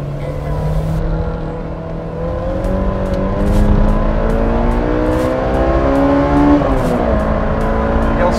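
A Honda S2000 roadster with a 240 hp, 9000 rpm engine revs hard while climbing a steep street. The engine note is loud and close, and its pitch rises steadily through the gears with short breaks at the shifts. No one speaks.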